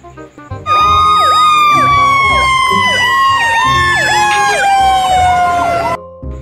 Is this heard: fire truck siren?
yes